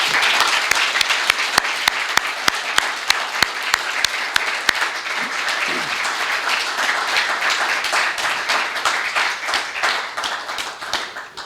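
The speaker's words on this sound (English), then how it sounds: "I'd like everybody to give our first responders here a round of applause." At a September 11th remembrance ceremony in Hoffman Estates, the crowd gives first responders a long round of applause, full and steady, with a few loud nearby claps early on before settling into an even, sustained roar of hands.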